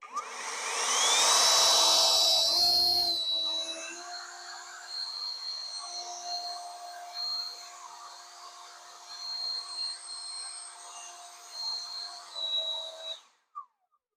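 A low-budget handheld leaf blower starts with a loud rising whoosh, then holds a steady, close whining roar with slight fluctuations for over ten seconds before cutting off abruptly, followed by a brief click.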